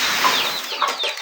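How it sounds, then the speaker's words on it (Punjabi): Desi hens and roosters cluck close by in a village yard, a few short rising calls and clucks following one another loudly with no talk. "ਦੇਸੀ ਮੁਰਗੀਆਂ ਤੇ ਮੁਰਗੇ ਰੱਖੇ ਹੋਏ ਨੇ"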